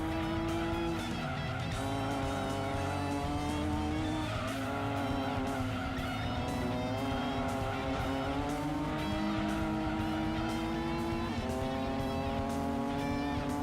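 Race car engines from Gran Turismo 2 drone and shift pitch continuously, with tire squeal and skids layered in, loud and steady throughout with no talking.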